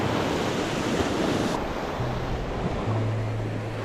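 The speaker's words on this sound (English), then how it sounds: "With as hard as the waves seem to be hitting, it's a little churned up" Ocean surf rolls onto a beach on Sanibel Island, churned up after Hurricane Ian; a loud, continuous wash of breaking waves mixed with wind buffeting the microphone, with no talk.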